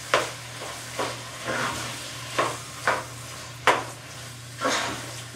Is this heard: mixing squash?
yes